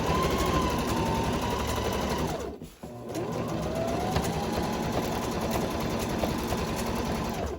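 A sewing machine top-stitches fabric on a DIY crossbody bag, running in a steady, continuous whir, pausing briefly near the middle before resuming at an even pace to the end.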